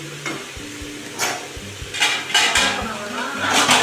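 Paneer sautéing in a pan, with soft sizzling under repeated clinks and scrapes of a spatula against the pan, close and moderately loud, with a voice talking in the background.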